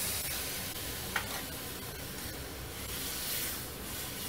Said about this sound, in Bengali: তেলটা ভেসে ওঠা পর্যন্ত এটা আমি কষতে থাকব।